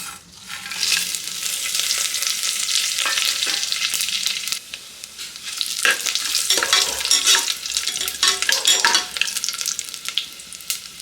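Whole spices (bay leaves, fennel seeds, star anise, cardamom, stone flower and marathi moggu) frying in a pan, with a bright hissing sizzle and intermittent stirring scrapes that swell and fade.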